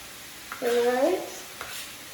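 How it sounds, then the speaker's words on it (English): Meat is stirred as it fries in a pot for lasagna soup, giving a short burst of scraping and sizzling that swells for about half a second and then fades, close by, with no talk. "so let me stir my meat."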